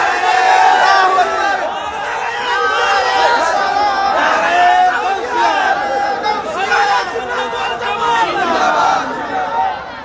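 A large crowd at a Ramadan religious gathering chants slogans together in loud, rhythmic, unified calls that rise and fall across repeated phrases, close and full.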